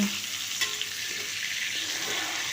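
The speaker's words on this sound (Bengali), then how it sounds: "একটা দিক ভাজা হয়ে গেছে উল্টে দিচ্ছি উল্টে অপর পিঠটাকেও ভেজে নেব" Pointed gourd pieces fry in hot oil with a steady, close broadband sizzle while being turned over in the pan, marked by a brief clatter of the flip early on and no talk.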